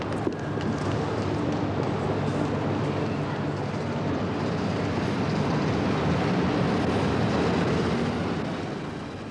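The Transalpine express train departing a station, a broad, steady rumble of wheels and carriages that holds evenly throughout with no speech over it.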